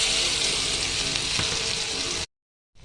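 Garlic sizzles loudly in hot oil in a wok, tossed in after dried red chillies and nigella seeds, with a steady broadband hiss that cuts off abruptly near the end before faintly resuming.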